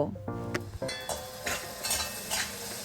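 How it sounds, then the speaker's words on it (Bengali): Chopped capsicum goes into a pan of frying onions in a Bengali home kitchen, the burst of sizzling followed by scraping and stirring with a utensil, several clinks and louder sizzle swells close by, with no talking. "পেঁয়াজগুলো না ভাজা হয়ে গেল, এবার ওর মধ্যে ছোট্ট ছোট্ট করে না ক্যাপসিকাম কেটে রেখেছি, এই যে ক্যাপসিকাম দিয়ে দিচ্ছি"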